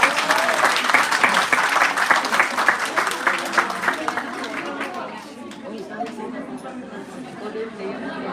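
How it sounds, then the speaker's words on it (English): Applause for Rachel at a regional convention and summit in Kalinga, 2022: lively, close clapping from a crowd for about five seconds, then tapering into murmuring chatter and scattered claps. "Again, let's give a round of applause to Rachel."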